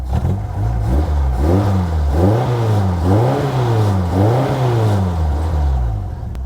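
An old car engine that has long had poor oil pressure revs repeatedly while driving, rising and falling in a steady cycle of loud, close throttle swells.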